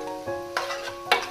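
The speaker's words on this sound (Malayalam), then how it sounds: "ഇനി ഇത് നന്നായിട്ടൊന്ന് വാടി വരുന്നത് വരെ ഹൈ ടു മീഡിയം ഫ്ലെയിമിലിട്ട് ഒന്ന് ഇളക്കിക്കൊണ്ടിരിക്കാം." Vegetables sizzle in a pan over a medium-high flame while being stirred, with a steady background hiss broken by a few distinct scraping stirs, close and moderately loud.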